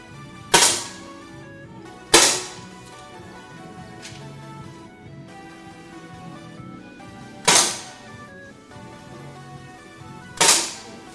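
Four sharp gunshots at a shooting competition gold-medal match, spaced irregularly a few seconds apart, each a loud crack with a short decaying tail over a low murmur of background hall noise.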